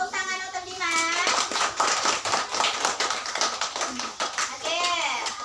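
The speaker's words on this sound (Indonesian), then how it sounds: "Kita berikan tepuk tangan untuk Dimas." A classroom of children applauds a student named Dimas during an Islamic school lesson, a dense burst of clapping lasting several seconds with a teacher's voice heard over the start and end.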